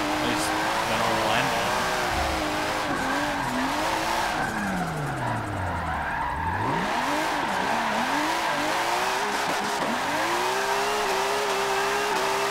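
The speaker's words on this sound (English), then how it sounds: "That's what I call maxing out engine." Car engine in the Forza Motorsport 7 racing game, drifting a classic car, roaring and revving continuously with pitch sweeps and tire squeal, loud and close throughout while someone talks over it.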